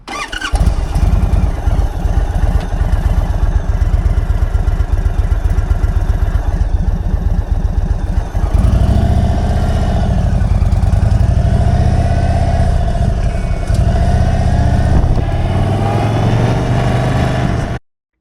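An Indian Chief motorcycle engine cranks and fires up, then settles into a loud, steady running rumble close by, with a deeper, fuller idle tone after several seconds and no talking.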